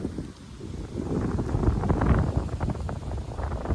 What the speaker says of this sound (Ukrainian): такий вітер зірвався, може до доща, не знаю